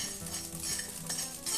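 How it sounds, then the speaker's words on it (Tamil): Quiet, steady crackling and popping of mustard seeds spluttering in hot oil, a dense sizzle with small irregular pops and no voices. "கடுகு நல்லா பொரிஞ்சு வருது,"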